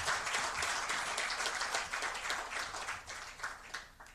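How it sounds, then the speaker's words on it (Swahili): Audience clapping for journalists at a bank's annual financial results event, a faint, steady patter of many hands heard from a distance, tapering slightly toward the end. "tuwatambue kwa makofi mazuri sana"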